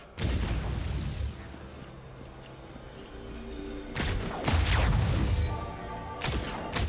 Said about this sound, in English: go ahead and shoot stuff and blow things up!